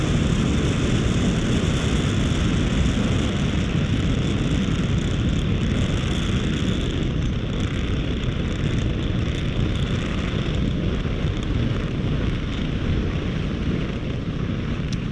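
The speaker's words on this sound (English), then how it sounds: "Falcon 9 has successfully lifted off from pad 40" A SpaceX Falcon 9 rocket lifts off from pad 40, its Merlin engines a continuous, loud, broadband roar that rumbles steadily through the whole stretch.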